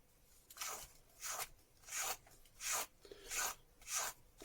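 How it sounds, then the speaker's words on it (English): Brush strokes pulled through the soft fur of a fox tail, six rough raspy swishes in a steady rhythm, close and fairly quiet, with no voices. "Give it another brush."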